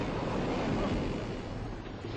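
Storm waves surging at sea, a dense, steady roar of surf and wind rushing without a break, loud and close throughout with no voices.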